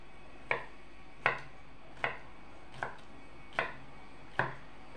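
A knife cuts a mango into cubes on a cutting board, with six sharp, close chopping taps at roughly even intervals and quiet between them.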